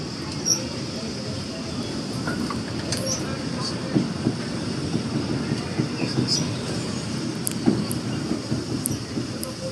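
Disneyland train ride rolling steadily on rails, a continuous low rumble with faint clicks and light squeaks from the wheels, mid-distance and even throughout.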